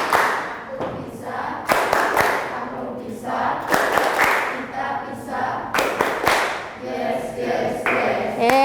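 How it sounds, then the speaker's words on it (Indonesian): A classroom group claps out a rhythmic spirit clap in sharp, loud bursts, the pattern repeating several times while voices chant along between the claps. "Kita tepuk semangat dulu."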